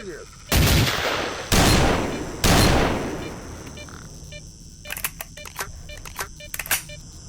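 Gunfire in the S.T.A.L.K.E.R. game, likely a shotgun: three loud, separate blasts with long decaying tails, then a scatter of quieter, sharper shots. No one speaks.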